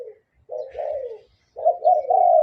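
A young spotted dove about four months old coos nearby, with one short note and then two longer, rolling coo phrases separated by silence.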